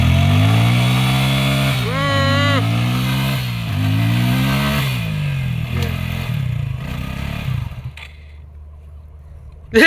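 A motorcycle with its rear wheel stuck in sand revs loudly and repeatedly, the engine pitch climbing and dropping in surges before cutting out, close up with someone talking over it.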